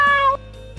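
A single short, clear cat meow, close and loud, rising then falling over well under a second, heard on its own.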